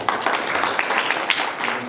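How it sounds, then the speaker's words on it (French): Audience applause at a youth training and exchange workshop, a steady wash of many hands clapping that fills the whole stretch at moderate loudness. "nous l'accompagnons par des applaudissements"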